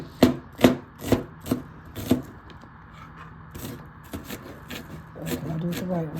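A knife chops food on a cutting board in a home kitchen, making several crisp, close knocks in an uneven rhythm before a pause, then softer scraping and rustling.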